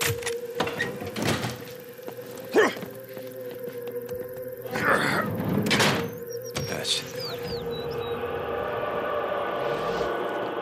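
A door being jimmied open in the video game Days Gone: a series of scattered heavy thunks, knocks and metallic scrapes over a steady low hum, with speech partway through.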